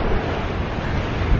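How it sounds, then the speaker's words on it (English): Ocean surf pounds the shore at Makena Beach under gusting wind, a loud, continuous roar of breaking waves with wind buffeting the microphone and no voices. "Waves just crashing in the shore like crazy, and it's getting a little windy"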